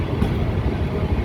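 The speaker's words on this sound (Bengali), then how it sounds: "খুলনামুখী সুন্দরবন এক্সপ্রেস প্রথমবারের মতো ফরিদপুর স্টেশনে প্রবেশ করতেছে।" The Sundarban Express, bound for Khulna, rolls into Faridpur station with a loud, close, low rumble and rattle of wheels and carriages, sustained over the brief moment.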